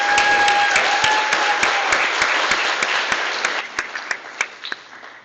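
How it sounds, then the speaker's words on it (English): A graduation ceremony audience gives the senior class another round of applause, loud sustained clapping with distinct close claps, thinning out toward the end. "can we just give them another round of applause?"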